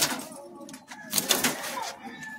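Madrasi high-flying pigeons held in cages give faint, low coos amid rustling and scattered clatter from the pens, with a busy indoor background.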